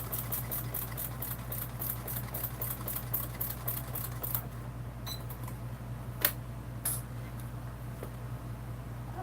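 A sewing machine stitches a bag seam in a steady, continuous run with a low motor hum, close and fairly quiet, with a few sharper clicks near the end.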